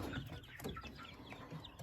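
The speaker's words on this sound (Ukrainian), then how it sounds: "Такі у нас курчатка." Young chickens cluck and peep continuously nearby, a busy mix of short calls with no voices.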